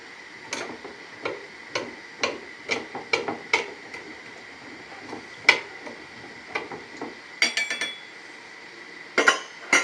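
Sugar being stirred in a metal pot for pear and plum compote, with a spoon clinking and tapping against the pot in a quick irregular series of bright knocks, fairly close and without talk.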